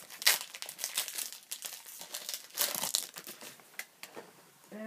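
A Pokémon card pack wrapper from a Tyranitar Mega EX box is torn open close up, with sharp crinkling and tearing bursts of foil plastic in uneven spurts and quieter rustles between.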